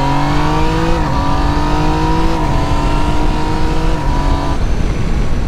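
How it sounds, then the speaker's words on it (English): A 2019 Yamaha Niken GT three-wheeled motorcycle engine drones loudly while riding, its pitch climbing and shifting through gear changes before easing off near the end, with no talk. "this has got to be one of the coolest motorcycles I have literally ever ridden"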